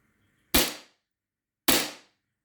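Two sharp, loud shots from a VFC Glock 19X airsoft pistol, about a second apart, each a crisp snap that dies away quickly, with silence around them.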